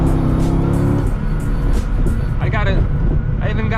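A C6 Corvette Z06 engine roars loudly and revs hard, its pitch rising and falling, with speech partly audible beneath the noise.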